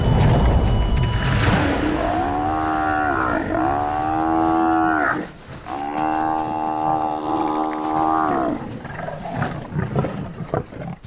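Buffalo bellow and moan in long, loud, drawn-out calls while lions attack them at night in Ruaha, Africa. Deep roars and grunts break through a constant rumble of struggle, and no one speaks.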